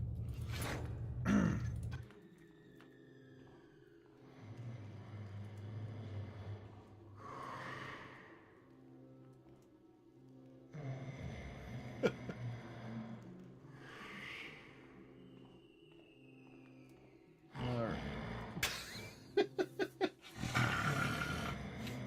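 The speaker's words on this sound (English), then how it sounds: "Boy, that's some snoring." Heavy, rhythmic snoring with snorts and rasping breaths repeating every few seconds, loud and close, ending in a burst of louder snorting, from a sleeping character in the video game Thief.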